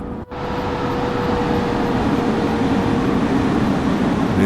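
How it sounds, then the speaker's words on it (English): Passenger train in Train Sim World 3 on the Northeast Corridor between New York and Trenton, a steady, loud rolling rumble with a faint tonal hum, continuous and without talk. "It's a good sizable passenger train without a doubt."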